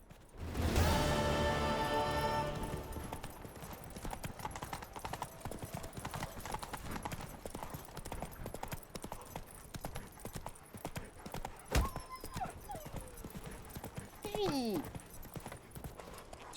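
Roach the horse in The Witcher 3 video game, hooves clip-clopping in a steady rhythm close by, moderately loud under game music at first, with a brief impact and snorting sounds later on.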